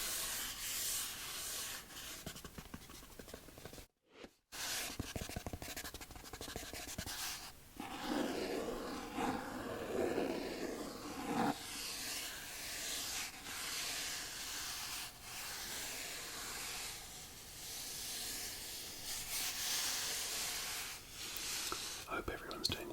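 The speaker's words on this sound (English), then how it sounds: "I think these boxes always make good sounds" Rubbing and scraping of a Magic: The Gathering card box close up, soft papery friction sounds in a quiet setting, with a short pause early on.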